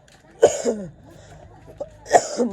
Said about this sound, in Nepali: हल्का खोकीले सताइरहेछ हामीलाई चाहिँ